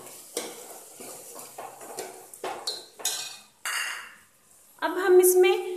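A spoon stirs golden-brown onions with bay leaf and green chili in a hot pan for dry black chana masala, producing scraping, clinking strokes and sizzling that swells near the end, heard under a voice talking.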